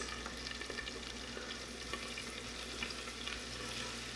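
Four garlic cloves fry in a pan with a steady, continuous sizzle and crackle. The sizzle stays even throughout, with no voices.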